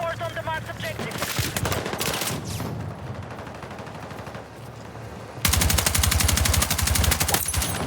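Rapid automatic gunfire bursts in Battlefield 6, with a dense rattling stream of shots that grows louder and continuous near the end.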